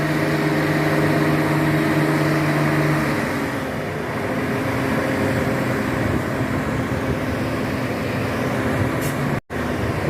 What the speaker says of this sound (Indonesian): Mesin sudah kembali hidup teman-teman ya.